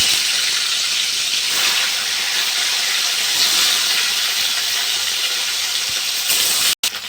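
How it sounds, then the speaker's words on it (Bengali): Chang fish frying in hot mustard oil for a potato-and-fish curry, a loud steady sizzling hiss that fills the whole stretch, with a brief dropout near the end. "তেলটা গরম হয়ে গেছে, আমি মাছগুলো ভেজে নেবো"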